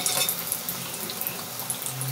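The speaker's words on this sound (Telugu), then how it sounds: "బజ్జీల్ని కట్ చేసి మళ్ళీ ఆయిల్లో వేస్తున్నాను." Cut mirchi bajji fry again in hot oil, a steady close hiss of dense sizzling crackle with small pops, continuous and without talk.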